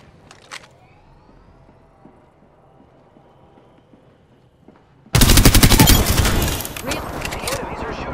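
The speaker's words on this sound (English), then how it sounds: "The enemies are shooting at me." Enemy gunfire in Apex Legends, a sudden loud burst of rapid automatic shots that erupts after several quiet seconds and keeps hammering to the end, with dense crackling shots close by.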